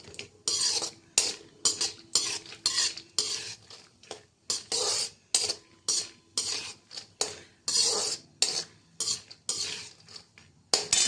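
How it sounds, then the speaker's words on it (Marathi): Roasted peanuts are sautéed in hot oil in a kadhai wok, a close, rhythmic series of metal scrapes and rattling stirs, roughly two per second, over a faint sizzle. "आता हे भाजलेले दाणे पण जरा ते खमंग होण्यासाठी तेलात थोडेसे परतून घ्यायचे"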